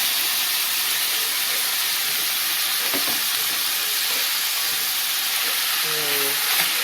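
Guatita tripe stew mixture frying in olive oil in a hot pot, a loud, steady, close sizzle and hiss that continues unbroken throughout, with faint stirring knocks beneath it.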